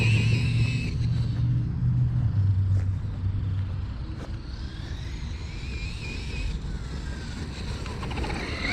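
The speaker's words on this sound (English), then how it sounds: "So that's 1600 kV motor. That thing really don't take any kind of energy at all to keep on ripping." Team Associated Rival MT 1/8 scale RC monster truck with a 1600 kV motor, a steady rumbling drive with a whining motor pitch rising and falling over a continuous outdoor background, moderately loud.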